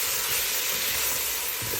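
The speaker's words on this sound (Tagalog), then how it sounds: "Gisa lang naggisa natin tong beef hanggang maluto" Beef sautéing in a pan for spaghetti gives a steady, broad sizzling hiss, close and continuous throughout, with no voices.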